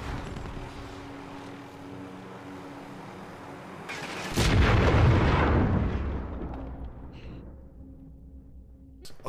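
Gunfire from a passing helicopter in a multiplayer video game: a steady rotor-like drone, then a loud booming burst of fire and explosion that fades out slowly.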